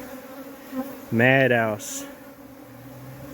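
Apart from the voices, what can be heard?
swarm of honey bees buzzing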